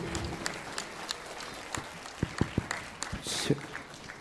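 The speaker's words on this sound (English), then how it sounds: "a louder round of applause, please." School audience clapping for students at a musical celebration, scattered, moderately close claps with a few sharp individual hits and some voices mixed in.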